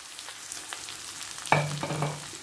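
Cluster beans tipped into a pan of fried onions set off a sudden burst of sizzling about halfway through, following a quieter crackle with soft stirring clicks, close by and without speech.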